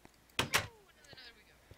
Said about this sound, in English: I'm gonna close our door actually